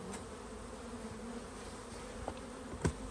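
Honey bees hum steadily in and around hive boxes, a dense continuous drone with a few louder passes close by, no voices.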